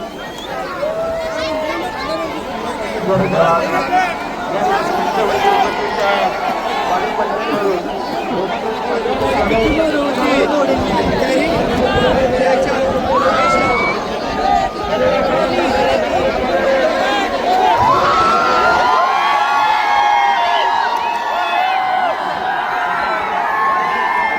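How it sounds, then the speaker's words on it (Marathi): A large crowd packed around a bull event fills the air with dense, loud chatter, shouts and bursts of cheering that run without a break throughout. "तुम्ही बघू शकता फुल अशी गर्दी झालेली आहे"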